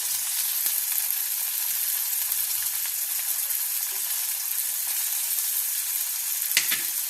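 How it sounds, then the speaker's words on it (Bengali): Fish frying in a pan for chilli fish gives a steady, close hiss and crackle. Soy sauce goes into the pan after vinegar, with a brief sharp flare of sizzle near the end and no talk. "সয়া সস দিচ্ছি।"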